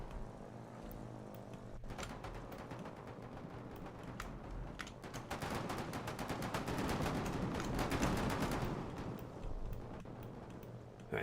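Aircraft machine guns chatter in a video game dogfight between formations of planes, rapid bursts of gunfire building into a dense sustained volley under steady engine drone, fairly faint overall.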